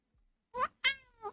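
Milo, a pet cat, gives three short meows in quick succession, close and clear against near silence, the middle one longest and most tonal.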